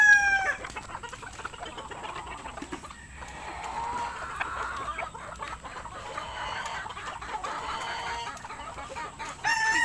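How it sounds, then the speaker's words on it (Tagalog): Chickens cluck continuously around a favourite Spangle rooster among a flock with brooding hens, with crowing mixed in, moderately near and steady across the whole stretch with no talking. "Ito yung aking paboritong manok."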